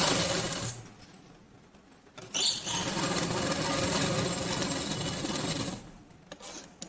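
Sewing machine stitching pieces of a night-dress pyjama, a fast whirring run of stitches that starts, pauses briefly, then carries on steadily and close.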